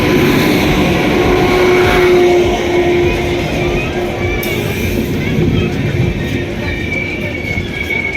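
Superfast express train from New Delhi to Pathankot pulling into Panipat railway station, a steady loud rolling rumble with a sustained tonal hum and platform noise throughout.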